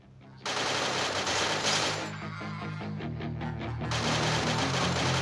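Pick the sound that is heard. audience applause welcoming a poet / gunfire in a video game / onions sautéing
gunfire in a video game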